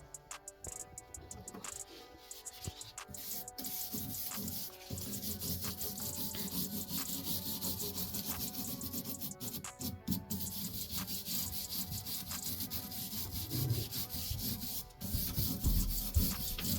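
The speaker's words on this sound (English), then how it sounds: "But yeah, I'm just scraping real light, just brushing it over." Rust being scraped lightly off a rain-rusted gun barrel, a continuous close rubbing and rasping with a few sharper scratches, steady throughout, no talking.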